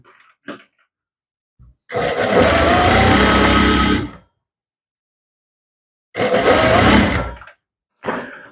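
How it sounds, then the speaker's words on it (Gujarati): Sewing machine stitching a pad into a princess-cut blouse, running in two loud, close bursts of steady whirring, about two seconds and then one and a half seconds long, separated by short quiet gaps with a few faint handling noises. "તો આપણે સિલાઈ લગાવી દઈએ"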